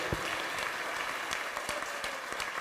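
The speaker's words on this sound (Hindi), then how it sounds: "एक बार आप जोर से तालियां बजाकर अपनी स्वीकृति प्रदान करिए।" An audience claps together at a Maha Aarti religious gathering, a steady patter of many hands that sounds somewhat distant and moderately quiet, with no speech over it.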